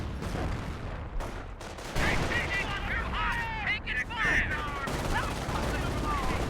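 Gunfire in the World War II strategy game Company of Heroes, US Rangers and Riflemen against German Panzer Grenadiers: continuous crackling battle fire with sharp shots and shouting voices, under a commentator's talk.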